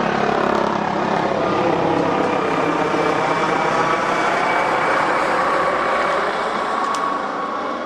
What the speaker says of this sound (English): That helicopter was very low.